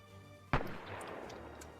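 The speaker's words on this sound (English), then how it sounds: "I just heard a gunshot" A single distant gunshot cracks out in the Arma 3 war game, a sharp report followed by a rolling echo that fades over about a second.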